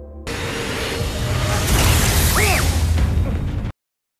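A loud, sustained explosive roar with a rumbling low end and rushing noise, lasting a few seconds before cutting off abruptly.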